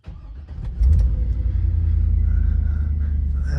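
Cadillac Escalade engine starting: a brief starter crank that catches into a loud, close idle rumble, settling to a steady low throb with no talking.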